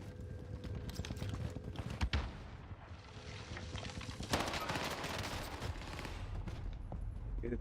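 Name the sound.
PPSh submachine gun firing in the video game Warzone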